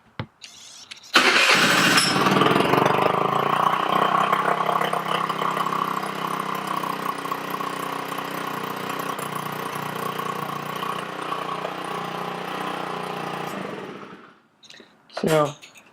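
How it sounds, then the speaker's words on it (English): A 50cc Chinese scooter engine is push-button started, catches almost at once and settles into a steady, loud, close idle that runs for about twelve seconds before cutting off, with a short burst of noise right after. "It'll start up pretty easily."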